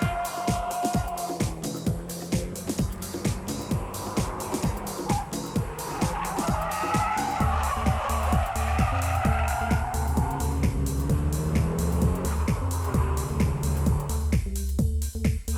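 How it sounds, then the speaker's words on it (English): A drift car sliding sideways at high speed, its engine roaring loud and steady while the tires hiss and squeal in a continuous skid, with music playing beneath. "The high-speed drift is composed from small countersteering and velocity."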